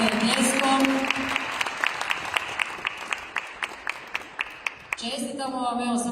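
Audience applause greets a stall owner stepping onto the stage at the opening of a Slavonski Brod fair, with broadband clapping and sharp individual claps rising between stretches of a public-address voice.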